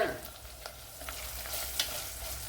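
Finely cut onion frying and being stirred in a pan for lemon pickle, a steady low sizzle with a few scraping stirs, close and moderately quiet, no voices.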